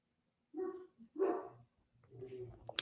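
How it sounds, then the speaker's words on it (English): Several dogs bark crazily in quick bursts, loud and close, with short gaps between barks and a few yips in the mix. "I've got 4 dogs, and they're all barking crazily."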